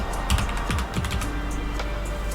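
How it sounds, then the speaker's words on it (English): A computer keyboard is typed on in a quick run of close, crisp keystrokes while a command is entered, with a faint steady hum underneath. "And then we're going to type in status equals progress"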